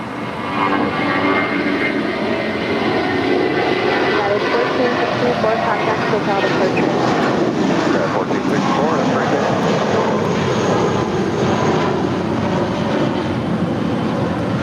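Airliner landing on runway 25 left at LAX, its engine roar broad and steady throughout, loud and continuous, with radio voices talking over it.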